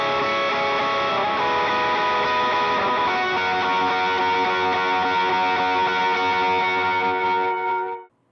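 Distorted electric guitar plays a fast passage from a song: a dense, loud, continuous wall of sound for about eight seconds that cuts off abruptly at the end, with no talking.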